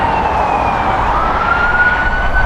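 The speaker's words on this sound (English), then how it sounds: "The ambulance passing right behind us." An ambulance siren wails steadily as it passes near LAX airport, its rising and falling tone riding over a loud, constant rumble of traffic and airport noise.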